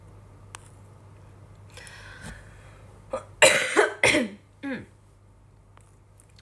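Several harsh coughs burst out close to the microphone in quick succession after a quiet stretch, with a final softer cough and throat-clearing.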